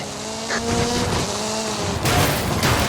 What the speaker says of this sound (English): Hooligan Gymkhana 10 Ford Focus RS RX. 2-litre turbocharged front-mounted engine and all-wheel drive